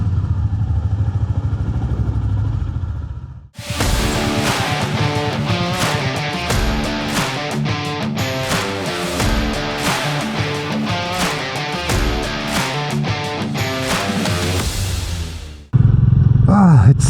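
Royal Enfield Meteor 350 motorcycle riding on a foggy, freezing winter day, a loud steady engine drone with thumping pulses and wind rush, which cuts out briefly near the start and again near the end.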